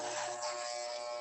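An electric shaver buzzes steadily and close up during a head shave at a St. Baldrick's charity event, a continuous bright motor drone with no pauses and no talk over it.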